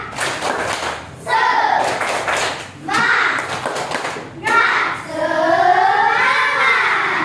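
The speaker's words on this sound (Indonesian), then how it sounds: "Coba kasih tepuk semangat dulu untuk kawannya." Young schoolchildren perform a rhythmic cheer clap in a classroom, clapping and chanting together in bursts separated by short pauses, close and loud.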